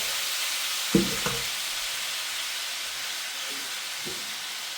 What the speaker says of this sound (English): So we're gonna make sure the salmon is nicely seared